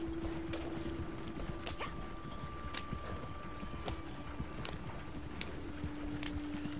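Horse hooves clip-clop at a quick pace in the Red Dead Redemption 2 video game, a faint, fairly distant patter of irregular thuds set against low background hum and a steady tone.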